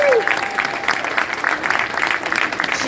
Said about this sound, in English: So we need to give her a big round of applause.